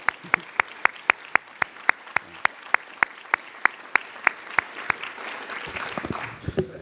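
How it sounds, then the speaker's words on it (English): At a health summit, a single person's loud, evenly spaced claps ring out one at a time, joined toward the end by a brief burst of scattered clapping from others. "And I'd like to give all of them and Hattie and her staff a big round of applause."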